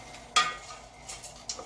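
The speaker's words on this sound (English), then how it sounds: "So we're going to start stirring this up here. We're going to toast it." Risotto rice being stirred and toasted in a pan, with a sharp utensil scrape against the pan followed by a few softer stirring scrapes and faint sizzling, close and fairly quiet.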